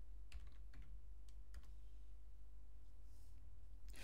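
Quick, faint keystrokes come in short bursts on a computer keyboard, entering commands on a cPanel server over a low steady hum, with no one speaking.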